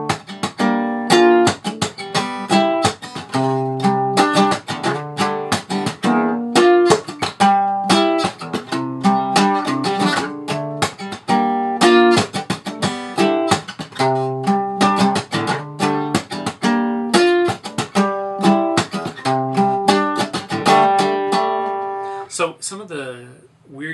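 Acoustic guitar playing the chorus of a song live, with top-to-bottom strums and rhythmic percussive muted hits, steady and loud throughout with no voice.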